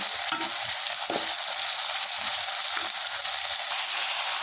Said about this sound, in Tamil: இப்போ இஞ்சி பூண்டு பேஸ்ட்டு, பச்சை வாசனை போட வச்சு வதக்கிக்கலாம்.